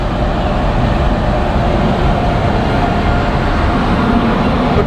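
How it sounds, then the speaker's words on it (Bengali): The Matara Express arriving at Naihati station makes a loud, continuous low rumble and roar with no clear breaks, heard close by on the platform. "সকাল 8:15 আর নৈহাটি স্টেশনে মাতারা এক্সপ্রেস কিন্তু চলে এসছে।"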